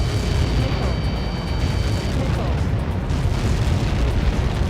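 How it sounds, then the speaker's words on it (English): A heavy, sustained rumbling roar of an explosion in Ace Combat 7 Skies Unknown, Mission 19: Lighthouse, loud and dense throughout, with a low booming tail and crackling debris. "How many got caught in that explosion?"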